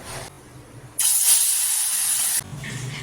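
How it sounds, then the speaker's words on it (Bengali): Prawns dropped into hot oil give a sudden loud, bright sizzling hiss lasting under two seconds, then it drops back to quieter kitchen noise, close by and with no voices. "অলরেডি তেল গরম হয়ে গেছে ফুস করে দিয়ে নিই মাছগুলো"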